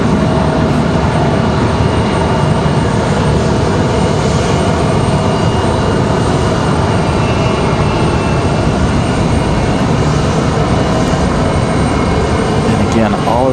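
American Airlines jet engines roar loud and close at an airport, a steady sustained drone with tonal whine that persists throughout without letup.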